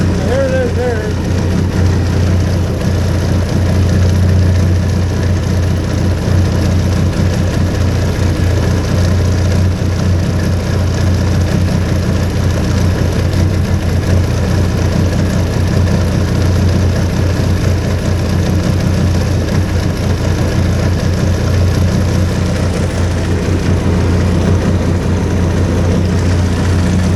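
A hovercraft engine gives a loud, steady roar throughout, a constant low droning rumble with no pauses.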